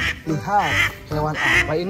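A few nasal duck quacks in quick succession, close and clear, mixed with a speaking voice.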